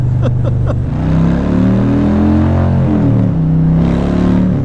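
Harley-Davidson Fatboy 2020 motorcycle engine rumbling loud and close, with a deep steady low drone whose pitch shifts as the bike rolls on and eases off, heard alone without speech.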